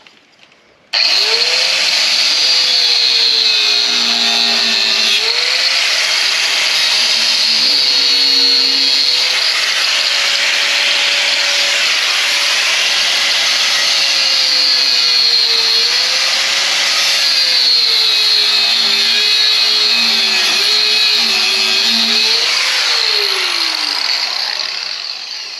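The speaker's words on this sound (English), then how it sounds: "I need to hook up my cutoff wheel. Let's grind these tacks out of here" Cutoff wheel grinding weld tacks off metal on a Takeuchi TL12 loader, a loud, steady high-pitched whine that starts abruptly, wavers in pitch as the wheel bites and eases, and then winds down at the end.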